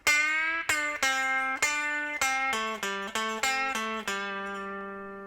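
An electric guitar plays the first half of a lead lick: about ten clean, separate picked notes in a steady stepping rhythm, close and clear, and the last note rings out and fades.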